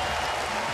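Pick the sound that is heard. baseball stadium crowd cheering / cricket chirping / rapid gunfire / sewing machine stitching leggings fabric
baseball stadium crowd cheering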